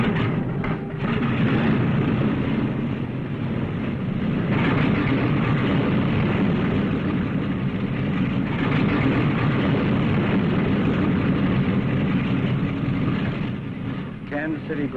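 Engines of a 1957 TWA airliner run with a steady, loud, broadband roar and drone heard from inside the plane, continuous and unchanging throughout.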